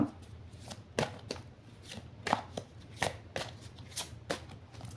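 Playing cards being cut and handled make a steady series of sharp, papery slaps and flicks, roughly one or two per second, close and distinct against a quiet background.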